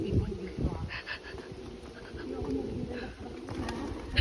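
Pigeons or doves coo softly at a Buddhist temple in Phang Nga, Thailand, their repeated low calls mixed with other bird chirps over a steady outdoor background of ambient noise.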